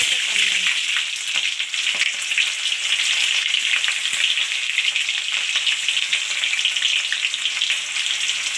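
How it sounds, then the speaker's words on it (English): Cumin seeds frying in hot oil in a pan, a loud, close and continuous hissing sizzle with scattered crackles throughout. "I will let this fry"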